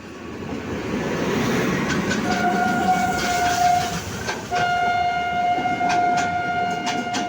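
A train rolls past close by with steady rumbling and rhythmic clatter, and a long sustained horn tone sounds twice over the noise.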